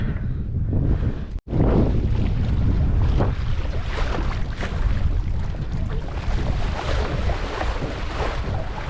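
Strong wind roars across an open lake around a small fishing boat, buffeting the microphone with heavy low rumble and gusts, water slapping nearby, with one brief dropout early on.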